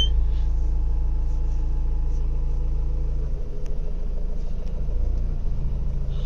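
A car engine rumbles steadily as an automatic car creeps forward, a continuous low drone holding close and loud throughout with a slight dip in intensity midway.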